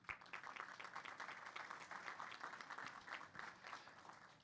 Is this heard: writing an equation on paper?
no